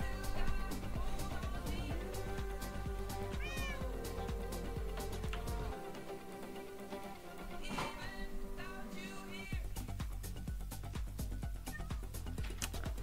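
Repeated cat meows from a Minecraft video game cat, several short calls spaced over the stretch amid game background music and effects, with no talk.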